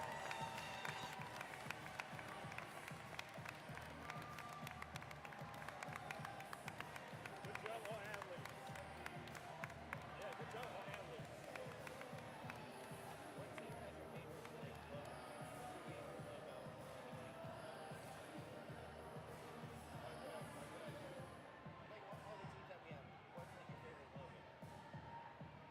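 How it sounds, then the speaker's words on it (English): Crowd applause and cheering at a live event as the MOT Tigers team enters, sustained clapping across the whole stretch, fairly distant, with a public-address voice talking over it. "Let's keep those applause up for the MOT Tigers."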